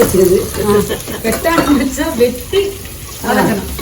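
Chopped onions sautéing in oil and ghee for biryani, sizzling and stirring heard beneath someone talking over them.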